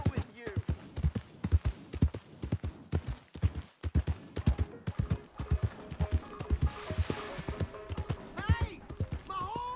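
Horse hooves clip-clopping in the Red Dead Redemption 2 video game, a close, steady run of hoof strikes with someone speaking over them.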